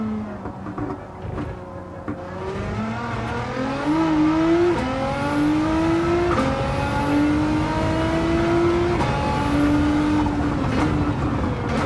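Engine of a Nissan GT-R race car in Gran Turismo 7, howling at over 200 mph down a straightaway: a loud, steady, close engine note that climbs slowly in pitch through the gears, with no talk.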